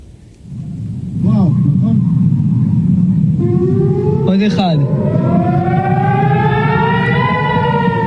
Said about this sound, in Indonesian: Sirine udara diaktifkan di kota Dimona, Beersheba, dan Eilat.